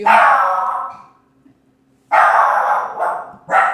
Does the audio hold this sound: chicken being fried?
no